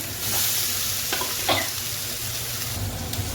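Boiled potatoes for egg curry fry in a hot pan with a constant sizzling hiss, a few sharp scrapes of a spatula as they are turned, close and moderately loud, no talking.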